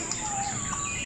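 Free-roaming parrots at a bird park in Singapore give a brief, continuous shrill call with whistled tones, close and fairly loud, cutting off abruptly.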